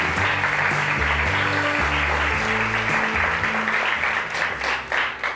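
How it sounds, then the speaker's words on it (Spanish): A TV studio audience at a talk show breaks into a loud, sustained round of applause that holds steady, then tapers off near the end. "Un fuerte aplauso para Diana Palazón."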